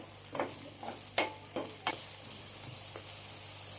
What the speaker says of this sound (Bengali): দিয়ে আমি 2-3 মিনিটের মতো ভেজে নেব